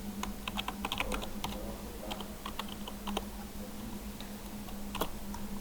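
Keys on a computer keyboard are tapped in quick irregular bursts while a verification code is entered, light clicks close and fairly quiet over a steady electrical hum, with no talking.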